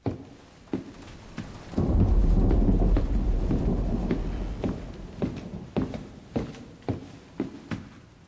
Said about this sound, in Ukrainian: Ми могли б це зробити, додавши великий конволюційний ревербераційний ефект.